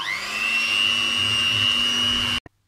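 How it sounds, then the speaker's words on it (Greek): Electric hand mixer beating eggless raisin cake batter, a steady loud whine with a constant high pitch and low motor hum for over two seconds, then cutting off abruptly with one brief knock. "Τα χτυπάμε όλα μαζί όπως είπαμε."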